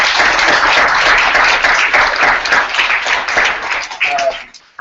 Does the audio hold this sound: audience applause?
yes